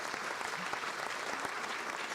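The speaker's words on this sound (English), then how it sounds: "Please, hold your applause." Audience applause at an annual meeting, a dense steady wash of many hands clapping at once, fairly close, with no talking.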